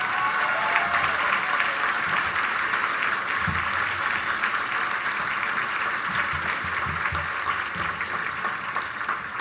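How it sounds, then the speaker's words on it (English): An audience at an award dinner claps in a sustained round of applause, even and moderately loud throughout, with faint voices mixed underneath. "So please give Mary Ellen a round of applause."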